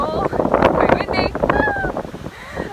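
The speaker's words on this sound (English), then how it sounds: "It's quite windy." Wind buffets the microphone with rough, gusty rumbling while a voice speaks faintly underneath.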